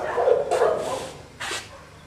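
Several dogs bark in short bursts inside an echoing kennel building at an animal shelter, a couple of sharp barks standing out over a steady background hum.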